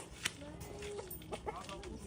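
Laying-breed chickens kept in a backyard pen cluck in short, scattered calls over a steady background hiss, with a few brief squawks standing out nearby.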